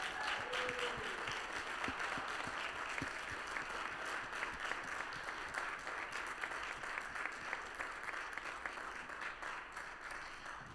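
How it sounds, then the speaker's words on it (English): A church congregation applauds at a Sunday worship service to honour a staff member's 20th anniversary, the clapping steady and dense throughout, loud and sustained with no talk over it. "So can we just give a round of applause?"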